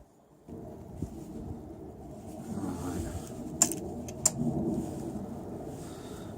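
A Sinnis Cafe 125 motorcycle engine cranks and catches, settling into a low rumbling idle with a couple of sharp mechanical clicks, close by.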